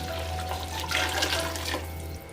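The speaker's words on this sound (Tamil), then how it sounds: "ஃப்ரெண்ட்ஸ் இப்போ ஹாட் வாட்டர் ஆட் பண்ணிக்கோங்க." Hot water poured into a pot of fish biryani, a steady splashing pour with a low constant hum beneath, close and moderately loud, with no talk.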